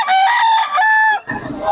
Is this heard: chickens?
yes